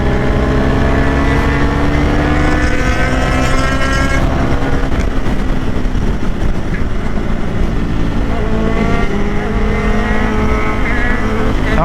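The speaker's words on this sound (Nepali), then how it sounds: "तर केटाहरूले नि चला हो बाइक त" Loud engine of a superbike motorcycle riding along the road from Hetauda to Chitwan, its revs rising and falling in sweeping tones with a steady roar of wind and tyre noise throughout.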